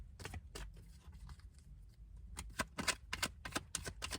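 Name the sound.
shuffling tarot cards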